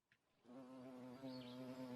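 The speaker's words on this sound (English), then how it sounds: "the buzzing of bees" Bees buzz around wildflowers in grass outdoors, a faint, steady, close hum that starts after a brief quiet moment and wavers slightly as they move, heard alone.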